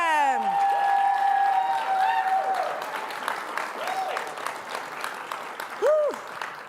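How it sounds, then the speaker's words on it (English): Audience applause for startup founders at an accelerator demo day, a steady wash of clapping with voices and cheers rising over it, moderately loud. "Let's give a round of applause for all of them"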